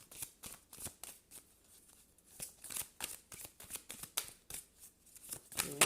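Tarot cards being shuffled by hand in a string of quick, crisp riffling bursts with short pauses between them, close and fairly loud, no voices over it.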